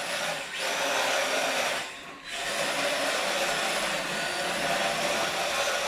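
Small electric motor of an MST RMX 2.0 rear-wheel-drive RC drift car under throttle, a steady close whine with a brief dip as the throttle eases, then holding at high revs.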